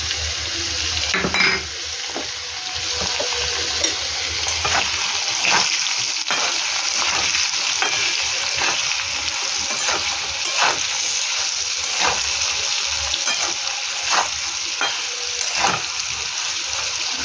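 Potatoes seasoned with salt and turmeric fry in a pan with a steady, close sizzle, while a spatula stirs them with repeated scraping clacks against the pot.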